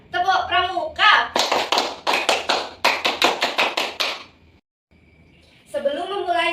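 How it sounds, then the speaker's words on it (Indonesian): A group of children performs the Indonesian scout clap (tepuk pramuka), sharp rhythmic claps in patterned bursts with short pauses, close and loud, with people talking before the clapping and again after a brief silence. "Mari kita tepuk pramuka ya."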